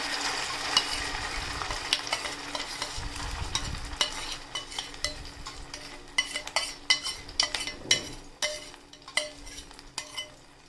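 Ginger paste being stirred into melted ghee in a pan for ginger sweet squares, with a spoon scraping and clinking against the metal over a soft steady sizzle, the strokes growing sharper and more rhythmic toward the end.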